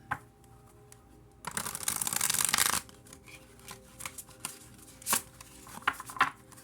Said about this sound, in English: Alright, that was a crappy shuffle